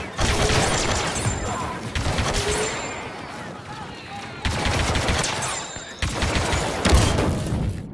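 Loud gunfire in the video game Star Wars Battlefront 2: rapid blaster bursts crackle in several dense, sustained volleys, with brief gaps between them and muffled game voices beneath.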